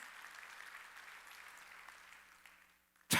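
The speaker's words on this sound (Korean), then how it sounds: "그가 잘 되는 걸 믿어 박수야." Church congregation at a Wednesday worship service applauding, a steady wash of clapping that gradually thins out before a sudden loud burst at the very end.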